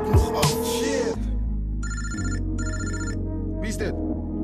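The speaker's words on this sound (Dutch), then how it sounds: "je telefoon die gaat ook nog af" An electronic telephone ringtone trills in two distinct bursts, loud and close, after a person speaks briefly at the start over background music.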